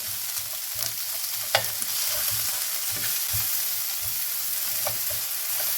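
Red and white onions fry in a cast iron skillet, giving a steady dense sizzle with low scraping stirs and one sharp tap, close and clear, without talk.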